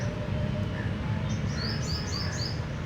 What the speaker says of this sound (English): Here you can hear the different types of birds singing,